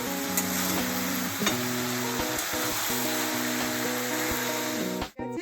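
Spinach fries in a pan while its released water cooks off, giving an unbroken, fairly loud sizzle with light stirring scrapes and a steady hum, ending in a brief abrupt cut.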